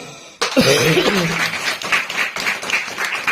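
Clapping from a seated audience at a Hindi talk on Gondwana history, starting abruptly after a brief quiet moment and continuing in uneven bursts, with a voice heard at the onset.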